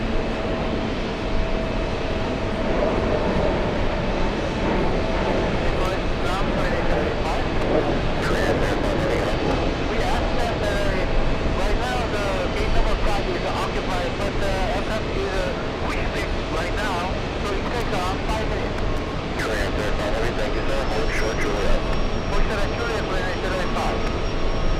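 A steady, loud roar of jet engines as an Embraer E175 and a Boeing 777-200 move at JFK airport, a broad rumbling drone that persists throughout with crackling texture and a faint high whine near the end.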